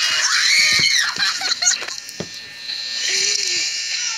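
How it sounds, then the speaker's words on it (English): A person screams loudly in a high, strained voice, followed by shorter yelps and then quieter background noise with faint voices. "See, that's my cousin screaming"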